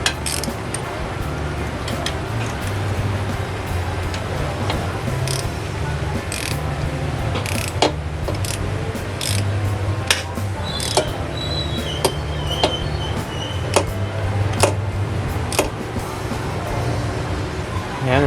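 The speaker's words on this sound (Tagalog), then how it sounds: "ito gagamitin natin torque wrench" A torque wrench ratchets while tightening bolts on a scooter engine build, giving repeated sharp clicks over steady mechanical clatter and a low rumble, with brief voices now and then.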